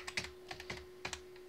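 Quick keystrokes on a computer keyboard while typing commands in a Linux terminal, several light clicks in short bursts, close and fairly quiet with no voices.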